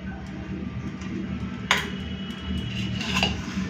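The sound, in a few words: serving rice onto a plate with utensils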